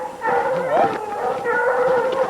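Hunting dogs bay and howl during a bear hunt outdoors, a drawn-out wavering cry rising and falling over a couple of seconds, fairly loud and close, with a voice briefly mixed in.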